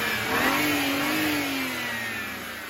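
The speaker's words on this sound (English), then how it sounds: "We definitely can hear the sound of rattling turbochargers." A BMW 335i N54 engine revs up and then settles back, its pitch sliding down over a few seconds, with a faint rattly texture from its turbochargers and no voices.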